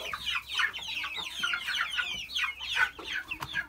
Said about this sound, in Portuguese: Olha, tem mais galinha aqui.